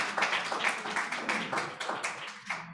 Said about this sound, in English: I would say another round of applause for Ted